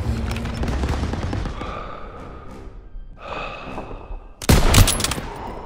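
Machine gun fire in the Call of Duty: WWII video game during a battle in a town square, sustained rattling bursts mixed with explosions and battlefield noise, ending in a loud close blast.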